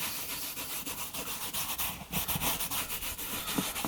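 Cloth rubbing conditioner into a leather car seat in circular motions, a steady close swishing friction that pulses with each stroke and is briefly louder midway, no voices.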